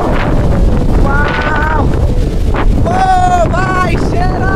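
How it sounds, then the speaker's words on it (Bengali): Strong wind blows outdoors in stormy weather, roaring and buffeting the microphone throughout, while voices or tonal sounds rise and fall over it. "দেখুন কি বাতাস, দেখুন"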